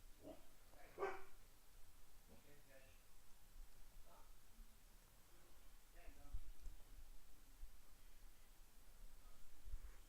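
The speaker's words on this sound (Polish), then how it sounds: "mój pies znów szczeka" A dog barks somewhere off in the house, a faint, distant single bark and a few softer yips under a quiet room hum while someone talks.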